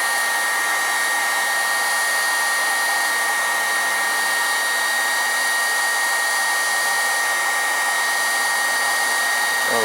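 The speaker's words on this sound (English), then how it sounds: "I don't know what temperature this heat gun goes to" A handheld heat gun blows hot air in a loud, steady, unbroken roar, close by, holding constant for the whole stretch with no talking over it.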